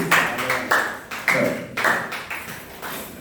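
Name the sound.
congregation applauding the word of God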